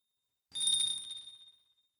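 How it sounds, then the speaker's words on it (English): A single clear bell rings out as a shrine door opens in a video game, a bright struck tone that starts abruptly after a moment of silence and then rings on and fades away slowly on its own. "their entrance accompanied by the clear ringing of a bell"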